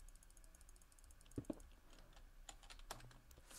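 Keys on a computer keyboard click in a Minecraft Skywars game, sparse irregular taps and a few sharper clacks, faint against a quiet background hiss.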